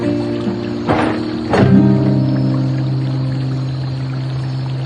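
Water being poured into a container in a hot indoor setting, a short splash followed by a steady trickle under a constant background hum, moderately close.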